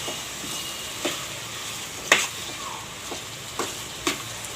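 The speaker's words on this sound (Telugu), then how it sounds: "మళ్ళీ మొత్తం కలుపుకుందాం బాగా నీట్గా." Drumstick and tomato curry being stirred in a pan: a continuous close sizzle with periodic sharp scrapes and taps of the spoon against the pan.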